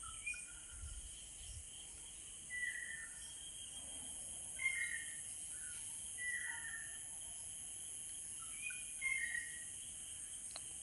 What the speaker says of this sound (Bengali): ভোরের যেমন পাখির আওয়াজ হয়,